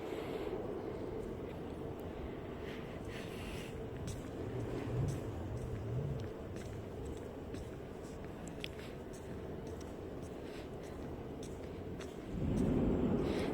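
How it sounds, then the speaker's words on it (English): A large heat-accumulating gas-fired aluminum melting furnace in a factory gives off a steady low, broad roar, with a louder surge near the end. "it's a heat accumulating type gas-fired aluminum melting furnace"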